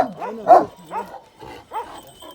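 A ten-month-old dog barks and yelps in a run of four short, close, moderately loud calls spaced about half a second apart, with whiny rising tones between them.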